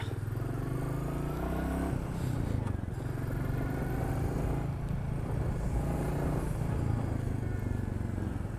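A freshly serviced Meteor motorcycle engine idles and runs steadily close by, a constant low chugging drone with faint mechanical clatter, no voices.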